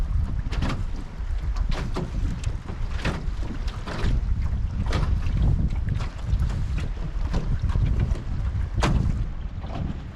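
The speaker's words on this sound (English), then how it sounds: "I'm gonna put my camera down and sail the boat." An outrigger sailing canoe moves through the water in wind, with steady wind buffeting, splashing and repeated hull slaps; someone briefly speaks.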